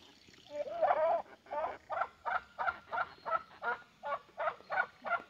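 Black Jersey Giant or black Australorp hens on a small farm in the woods cluck nearby in a regular series of short, rhythmic calls after one louder opening squawk.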